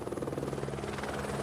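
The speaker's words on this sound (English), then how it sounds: "When a helicopter arrives at base camp," A helicopter arriving at Everest base camp, its rotor thudding in a steady, loud rapid pulse with a constant engine whine, heard alone with no voices.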